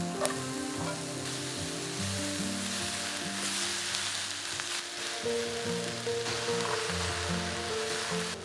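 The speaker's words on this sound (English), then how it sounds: "got a heap of veggies cooking at the moment" A heap of vegetables sizzles loudly for a Hokkien noodle stir fry at a mountain campsite, a constant dense hiss of frying, with steady tones droning beneath it.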